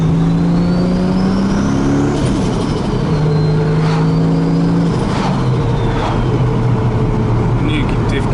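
Car with new differential gears pulling hard under turbo boost, the engine note climbing steadily through gears with shifts, loud and close from inside the cabin.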